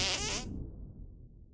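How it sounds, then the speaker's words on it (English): A single fart sound effect from the South Park: The Stick of Truth video game blasts in as a loud, buzzy, sputtering burst, then quickly trails off into a low rumbling decay. "Make your fart detonate behind me."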